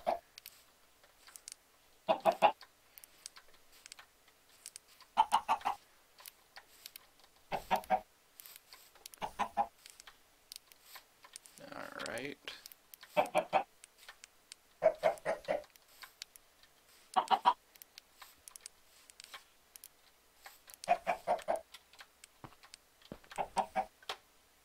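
Chickens on a small chicken farm cluck in repeated short bursts spaced every couple of seconds, fairly close and clear, with a few squawkier calls in the middle and no talking.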